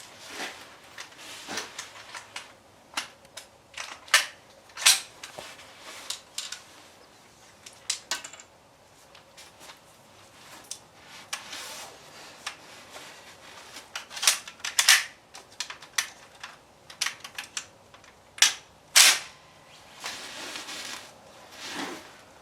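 MarColMar CETME L rifle firing with malfunctions and failures to eject, irregular sharp cracks spread across the clip, some loud and some fainter, with clicks and handling noises between shots.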